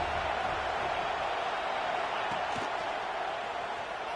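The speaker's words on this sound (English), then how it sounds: "This crowd bringing the energy and noise early." Broad, steady roar of a large football stadium crowd at a Michigan vs Auburn game, a continuous distant wash of cheering and noise with no distinct voices standing out.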